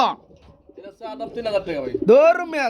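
Pigeons coo in soft, rolling bursts at a pigeon sale, the last ones louder and close, with voices of buyers and sellers bargaining in between.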